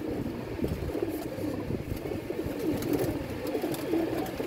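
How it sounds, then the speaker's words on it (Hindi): Pigeons coo steadily and close by in a low, continuous murmur while their feathers are opened with a blade, a dense layer of soft calls with no voices over it. "ये कबूतरों के पर खोल रहे हैं, ये देखें ब्लेड के साथ आराम से पर खोल ही जा रहे हैं।"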